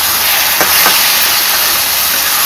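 Fish frying in hot oil with parwal, a loud continuous hiss of sizzling with a couple of faint scraping touches, steady and close throughout.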